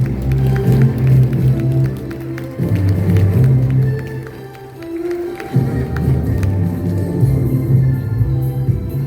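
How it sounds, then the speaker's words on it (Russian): Audience applause for the laureates at the closing ceremony of a research conference and competition, loud and sustained clapping from a crowded hall with surges and a brief dip midway. "попросим всех поддержать бурными аплодисментами наших лауреатов"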